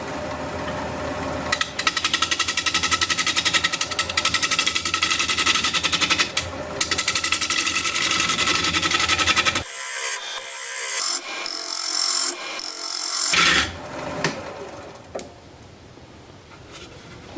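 A large maple burl bowl spinning on a wood lathe at about 700 RPM, with a loud, continuous rough cutting and rasping drone. The tool lifts off in stretches, leaving a quieter spinning hum and gaps before the sound fades near the end.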